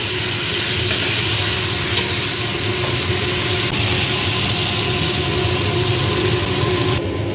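Tomatoes frying in a home kitchen pan with asafoetida for radish sambar, a steady broadband sizzle that runs loud and continuous the whole time, with no talking.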